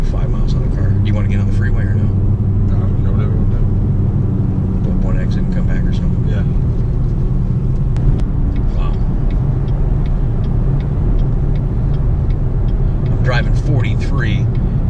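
A 2019 Chevrolet Corvette ZR1 driving on the road, its engine a steady low rumble with road noise from inside the cabin, and people talking over it throughout.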